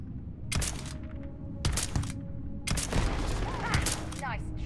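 A six-shot gun firing in the video game Starfield, with three loud, sharp reports spaced about a second apart, each trailing off over a mine-level ambience with faint electronic chirps.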